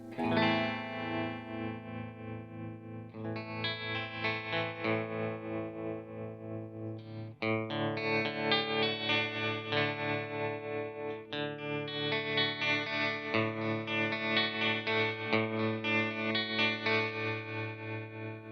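An electric guitar runs through a TC Electronic Pipeline tremolo pedal with its depth set back and its speed raised, playing sustained chords that pulse in a steady, rapid volume wobble, alone and fairly close.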